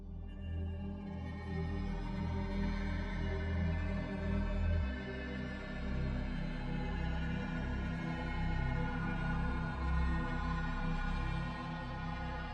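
A lush aurora-style pad synth patch built in Serum 2 swells and sustains as a dense, evolving chord with a soft, airy shimmer on top, steady and unbroken throughout, with no talking.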